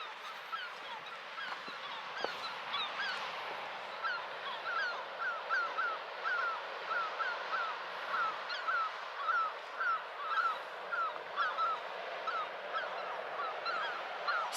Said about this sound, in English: Some very vocal seagulls down there.